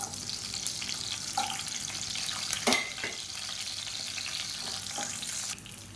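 Large garlic cloves frying in hot sesame oil in a kadai, a soft steady sizzle with a few light utensil taps and one sharper clatter, fairly quiet and without voices.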